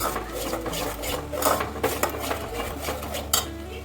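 Mutton masala with red chilli powder being stirred in a cooking pot, a spoon scraping and clinking against the metal in an uneven, continuous rhythm.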